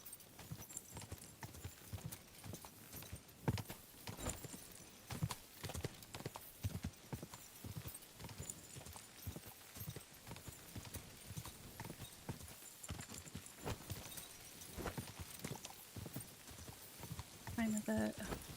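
Steady clip-clopping of horse hooves at a brisk trotting rhythm, fairly close, with occasional voice and a brief whinny-like tone near the end.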